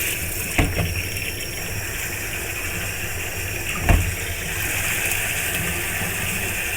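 Water pours and gushes continuously while a shisha hookah is being rinsed out, a steady splashing hiss broken by two brief knocks against the glass.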